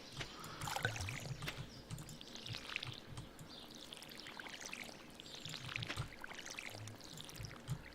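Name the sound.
watering crops in Stardew Valley video game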